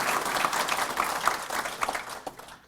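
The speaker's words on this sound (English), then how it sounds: "How about a round of applause for that?" Audience applause at the 104th Wilmington Police Academy graduation ceremony: a dense, steady wash of many hands clapping that holds strong for over two seconds, then thins out and fades away.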